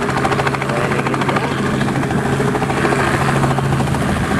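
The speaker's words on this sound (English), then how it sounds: "that is a helicopter" A helicopter flies over boats anchored at Tangalooma, its loud, steady rotor thrum dominating throughout.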